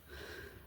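A single close, sharp sniff of strong home-brand Vicks eucalyptus menthol oil, a brief airy inhale through the nose with no talking.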